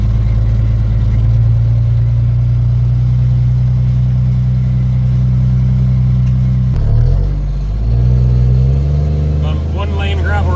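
A heavy diesel truck hauling a 22,000-pound load rumbles loudly and steadily as it pulls away, its deep engine note shifting midway, with a person talking over it.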